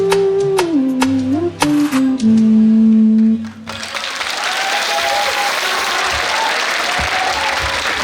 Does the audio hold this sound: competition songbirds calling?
no